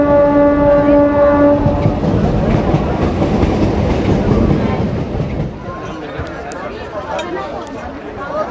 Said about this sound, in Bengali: 9:30 ট্রেন ছাড়লো এই বনগাঁ স্টেশন থেকে।